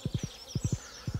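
Horse hooves in the Stardew Valley video game clop in three quick groups of three soft, low thuds, evenly spaced and fairly quiet.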